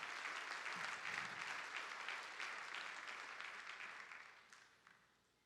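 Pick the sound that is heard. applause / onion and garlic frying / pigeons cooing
applause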